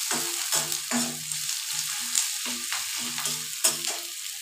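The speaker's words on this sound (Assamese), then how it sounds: "এতিয়া মই এয়া পিঁয়াজখিনি দিম।" Chopped onions fry in hot oil in a pan for a lote fish fritter dish, a steady close sizzle broken by repeated rhythmic scrapes of a spoon stirring against the pan.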